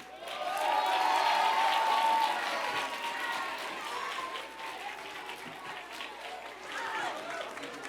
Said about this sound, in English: Let's give him another round of applause, everyone.